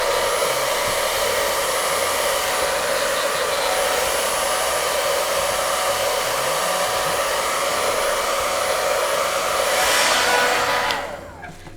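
A hair dryer blows steadily over melted crayons on a canvas, a loud continuous whooshing hum that runs alone, swells slightly near the end, then cuts off.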